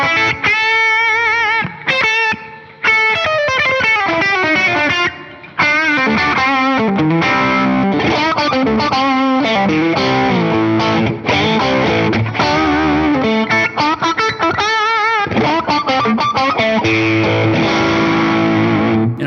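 Fender Player II Stratocaster through a Deluxe Reverb amp model with a Nobels ODR-1 overdrive model plays a busy run of chords and riffs, gritty and loud, with a few brief pauses before strumming on steadily.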